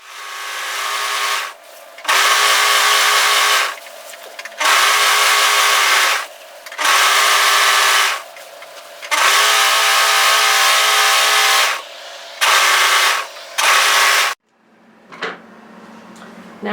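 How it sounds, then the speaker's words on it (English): A serger with left needle and two lower loopers runs a wide overlock finish along a dress hem edge, loud bursts of steady whirring in about six runs separated by short pauses, ending with quieter handling sounds. "So I'm just doing a wide overlock finish to that hem edge."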